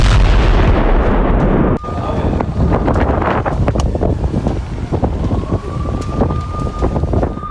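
Israeli missile strikes and explosions in Damascus, heard as heavy wind-buffeted roaring noise with a sharp break, followed by scattered distant blasts and crackles under a faint siren-like tone.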